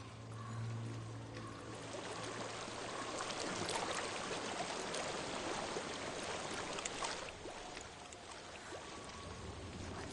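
Flowing water in the video game Hellblade: Senua's Sacrifice: a steady, faint stream rushing without a break, with low ambient rumble beneath and no voices.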